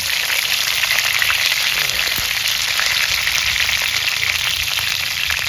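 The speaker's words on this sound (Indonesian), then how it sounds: "wis nek lengone wis panas, iki iwak tongkole dicemplungno" Pieces of tongkol tuna dropped into hot oil sizzle and crackle loudly and steadily, a dense close frying hiss that continues without a break and with no talking over it.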